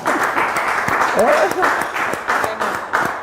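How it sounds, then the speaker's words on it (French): A brief burst of audience clapping on a talk show, moderately loud, with people speaking over it throughout. "est-ce qu'on peut l'applaudir quand même?"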